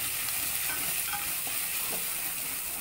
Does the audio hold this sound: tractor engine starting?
no